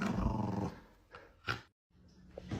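A dog growls low and rough up close for under a second, then short snarling bursts follow with a brief silence before more growling.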